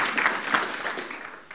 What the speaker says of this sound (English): Please, a big round of applause for Paul Galatis.